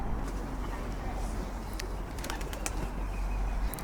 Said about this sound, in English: A load of birds suddenly appeared on the castle turret